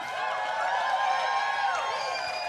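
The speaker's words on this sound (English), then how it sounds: "keep that applause going for all of the artists you've seen and heard tonight" A dense, sustained wash of crowd noise with cheering and whooping voices blending together, loud and steady throughout without a break, at the Sydney Harbour New Year's Eve concert.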